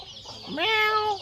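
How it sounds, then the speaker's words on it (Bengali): A cat gives a single clear meow, rising and then drawn out, close by and alone. "এই হচ্ছে আমাদের পোষা বিড়াল"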